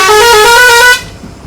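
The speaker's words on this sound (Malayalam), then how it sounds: "ഈ ഹോൺ അടി നല്ല ഡിസ്റ്റൻസ് നല്ല പോകും, അങ്ങ് ദൂരെ കേൾക്കാം അല്ലേ" A vehicle horn on a drive along a thrilling route from Thodupuzha gives one loud, sustained honk close by, then cuts off sharply into quiet road ambience.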